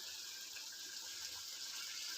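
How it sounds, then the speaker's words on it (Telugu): Water pours into a pot of gongura chicken curry as a faint, steady gushing hiss that runs unbroken throughout, with no voices. "కారం వేసుకున్న తర్వాత కొంచెం కుక్ అయిన తర్వాత వాటర్ పోసుకోవాలి."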